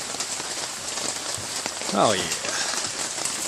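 Rain running over several layers of plastic sheeting on a pallet shed, a steady close hiss of drumming drops throughout, with a brief spoken remark partway through.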